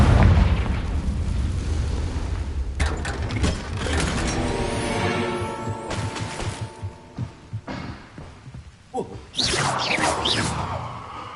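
A Confringo blasting spell from Hogwarts Legacy, a loud booming explosion that swells and crackles with rumbling, whooshing game effects, followed by further bursts and a sharp blast late on.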